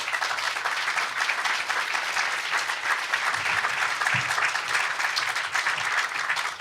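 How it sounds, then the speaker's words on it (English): An audience at a Chicago business event on healthcare transformation fills the room with even, continuous applause, dense clapping holding steady at a moderate distance for several seconds. "How about a round of applause?"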